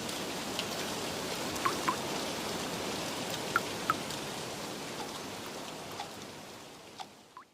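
Steady binaural rain for gentle sleep ambience: a dense, even wash of rainfall, close and soft, with a few sharper droplet ticks scattered through it and no voices.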